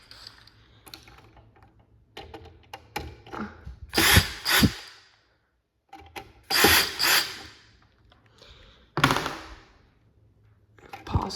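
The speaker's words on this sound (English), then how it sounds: "I might need to loosen up these screws a bit more." Screws being loosened with a power driver during a Chamberlain 248739 installation, several short whirring bursts with mechanical clicks and rattles between them, close and fairly loud, with no talking.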